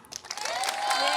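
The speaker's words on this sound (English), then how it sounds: "Keep the applause going for Marissa Coleman" Audience applause for a guest introduced on stage at a university athletics event, with a crowd clapping steadily and building in loudness, mixed with cheering and voices.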